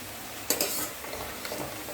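Spice masala for egg curry is sautéed in a pan, with a couple of sharp stirring scrapes over a quiet sizzle and a final clank near the end.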